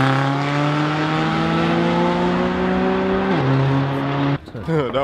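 A car engine holds a loud, steady rev with climbing harmonic tones, then drops in pitch before a sharp roaring burst near the end; voices are faintly present.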